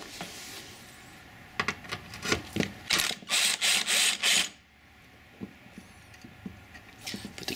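Cordless Harbor Freight impact gun rattling in several short bursts, loud and close, during work on fog lights on a 2002 Hyundai Santa Fe, with quieter handling clicks before and after.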